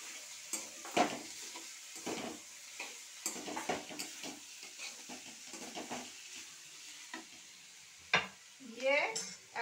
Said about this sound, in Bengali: হলুদ আর লবণ দিয়ে আবার একটু আমি আলুটা নাড়িয়ে নেব।